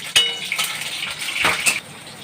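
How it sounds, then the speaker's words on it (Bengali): Panch phoron spices and chillies hit hot oil in a wok, giving a close, bright crackling sizzle with a few sharp spatters and metal clinks over about two seconds. "এবার কড়াই তেল দেব, পাঁচ ফোড়ন দেব, লঙ্কা ফোড়ন দেব।"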